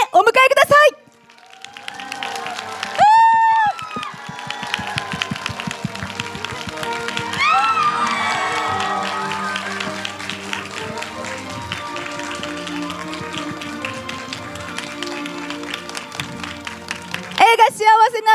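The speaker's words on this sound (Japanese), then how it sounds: "拍手でお迎えください。" Audience applause greets the director and lead actor arriving at a Japanese film premiere, rising after announcer speech and continuing steadily under bursts of music and amplified voices.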